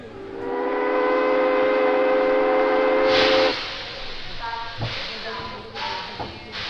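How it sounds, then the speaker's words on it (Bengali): A steam train whistle blows long and loud as the train departs, followed by hissing steam and chugging, a sound effect in a Bengali detective story. "ট্রেন ছেড়ে দিল।"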